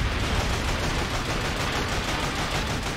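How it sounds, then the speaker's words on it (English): Dense, continuous gunfire from the video game Call of Duty Finest Hour roars in a thick, unbroken barrage of overlapping shots, loud and close throughout, with no voices. "Getting shot from behind."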